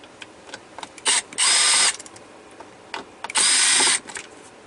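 A power screwdriver unscrews a T15 Torx screw in a GM car, with two close whirring bursts of about half a second each, each preceded by a short blip, and quiet handling sounds between them.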